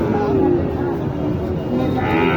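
Cattle, including Sahiwal and Gir heifers, at a busy rural cow market in Naogaon, heard within a steady, loud din of crowd and animal noise with a low call rising briefly near the end.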